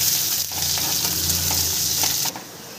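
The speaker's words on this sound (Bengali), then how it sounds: "পেঁয়াজটা আমি একটু লাল লাল করে ভেজে নেব।" Finely chopped onion frying in hot oil for a cabbage dish, a steady, close sizzle with stirring clicks from a spatula, the hiss dropping off near the end.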